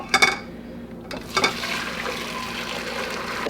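Curds and whey from a ricotta pot poured into a colander set over a bowl: a couple of sloshing splashes, then a steady close trickle of liquid draining, with no talking.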